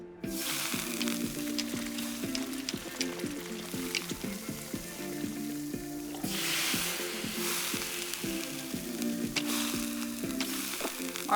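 Noodles, vegetables and meat in sauce fry on a big, flat, round grill, a steady loud sizzle with repeated scraping and stirring strokes of a spatula, swelling louder midway, no voices.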